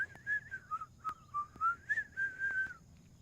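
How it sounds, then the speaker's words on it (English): A single melodic whistled tune, close and clear, with a wavering pitch and short phrases, sounding alone over a faint background. "We're just whistling"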